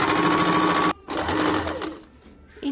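Close, loud sewing machine top-stitching on a katori cut blouse, running in bursts with a brief stop near one second, then a second run that slows and fades.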